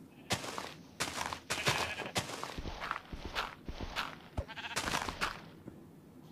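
Sheep bleating in the Minecraft video game, several short bleats repeated amid a busy stretch of footsteps and thumping game sounds, loud and close.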